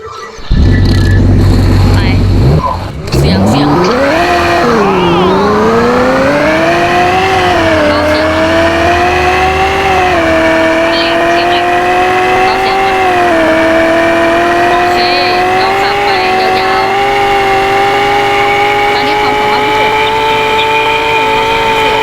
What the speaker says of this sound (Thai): นี่คือรถสปอร์ต